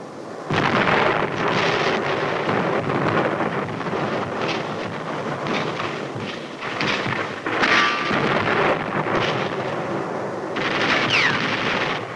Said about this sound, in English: Naval fire made a shambles of German bunkers and batteries in preparation for the assault.